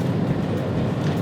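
Steady engine and road roar from a Zeekr 7X or Geely Coolray with a dual-clutch transmission and 174 PS, speeding up on the Mandalika circuit, a dense continuous rumble heard from inside the car, with no talk.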